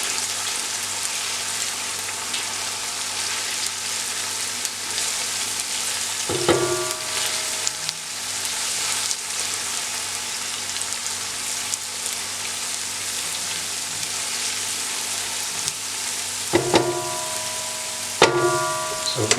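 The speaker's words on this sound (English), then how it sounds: "So I've got the onions, so it's just to cook off the rawness of the garlic and ginger." Onions, garlic and ginger frying over medium-high heat in a pan for a hot curry, a steady close sizzle with occasional stirring clatters.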